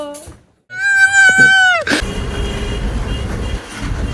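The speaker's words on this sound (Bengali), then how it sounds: "আমরা লোকাল ট্রেনে করে যাচ্ছি যাদবপুর।" A local commuter train bound for Jadavpur, near Kolkata, gives a long, tonal horn blast, then steady rumbling and clattering rail noise carries on to the end.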